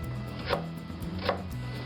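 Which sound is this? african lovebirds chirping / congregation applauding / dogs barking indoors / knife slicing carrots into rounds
knife slicing carrots into rounds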